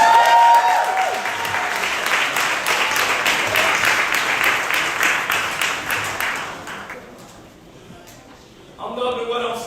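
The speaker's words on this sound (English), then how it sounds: "Clap it up, family." An audience at a gala breaks into steady, full applause that holds for several seconds, then thins and fades before a speaker's voice returns.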